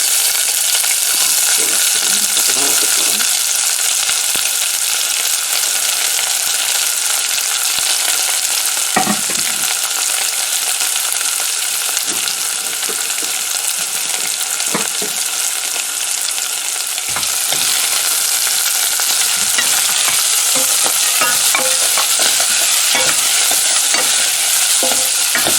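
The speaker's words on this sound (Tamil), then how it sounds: "வெங்காயம் நல்லா வதங்கட்டும்." Onions sizzle and fry steadily in hot oil with popping mustard seeds for chickpea curry, with occasional scrapes and stirs of a spoon through the pan, loud and continuous throughout with no voices.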